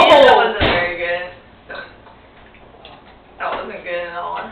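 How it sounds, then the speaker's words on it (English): A loud, close burp after drinking Mountain Dew opens the clip, followed by speech and laughter-like vocal sounds through the rest. "That was like the worst burp I think I've ever done."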